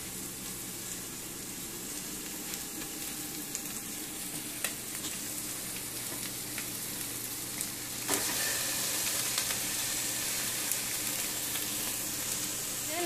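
Extra lean ground beef hitting a pan of lightly sautéed onion, sizzling steadily and close, with occasional scrapes and clicks of stirring; the frying grows a little louder partway through.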